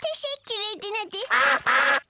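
Several nasal quacks in quick succession, close and loud, in a cartoonish voice from ducks in a Peppa Pig cartoon.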